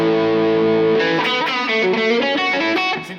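A 1996 Joe Perry signature Gibson electric guitar playing in a crunchy, mildly distorted tone: a held chord, then a run of picked notes and chords, loud and close, no voice.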